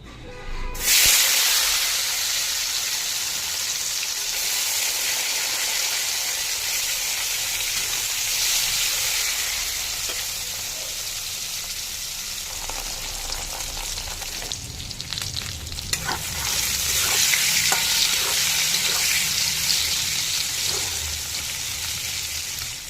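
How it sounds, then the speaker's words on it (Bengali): Spice-marinated pieces, coated in ground spices, frying a few at a time in hot oil, a loud, dense, continuous sizzle and hiss, close to the pan, with brief stirring and a surge when more pieces go in. "তেল গরম হয়ে গেছে, অল্প অল্প করে ভেজে নেব।"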